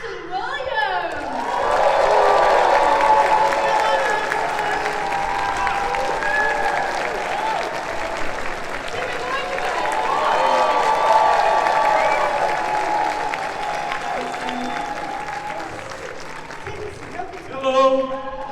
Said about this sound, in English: give a raucous round of applause when I say these names.